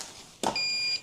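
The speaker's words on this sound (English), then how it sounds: "You leave it alone for too long and it starts beeping" A DJI Mavic Air drone accessory gives a loud, close, steady electronic beep that holds for about half a second after a short rustle and then cuts off; no talking.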